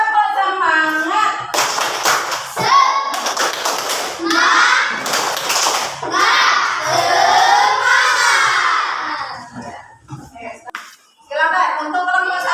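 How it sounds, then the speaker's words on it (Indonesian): Schoolchildren in an Indonesian classroom perform a rhythmic spirit clap led by their teacher, with bursts of patterned hand claps, thumps and loud shouted chanting close by, then a brief pause before more voices. "Tepuk semangat."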